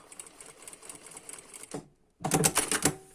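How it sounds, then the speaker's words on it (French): A sewing machine stitching along a fabric edge for a skirt, a rapid close mechanical chatter in two bursts separated by a brief pause, the second burst louder. "Je couds ensuite dans le bord du tissu à 1 mm"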